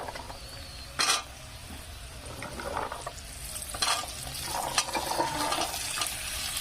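Whole green beans stirred into a hot pan with oil and turmeric powder, giving a steady soft sizzle with a few scraping, clattering stirs; no voices.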